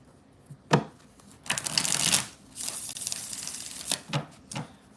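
Tarot cards being shuffled by hand during a reading, with several close, crisp riffling bursts separated by short pauses and no talking over them.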